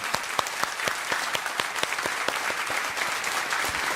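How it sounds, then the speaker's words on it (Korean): A church congregation at an autumn special dawn revival service applauds warmly, a dense steady wash of clapping with sharp individual claps standing out, sustained throughout with no talking. "뜨거운 박수로 격려 한번 해주시면 감사하겠습니다"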